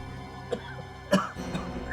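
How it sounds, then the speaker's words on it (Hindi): A few short, sharp coughs close by, spaced out over a couple of seconds with quiet background between them. "सांप का टुकड़ा देखकर इतनी खांसी?"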